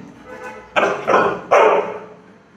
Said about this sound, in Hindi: इसलिए भौंक रहा है।